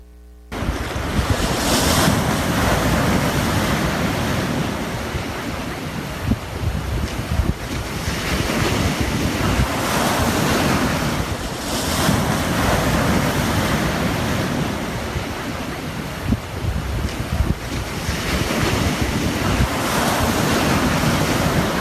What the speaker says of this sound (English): We're going to take a look at a glimpse of nature, one of these sequences that I made from my time at Virginia Beach.